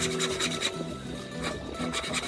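Hand saw drawn back and forth through wood for a homemade spear gun's trigger guard, rhythmic rasping strokes, close and steady, alone without talk.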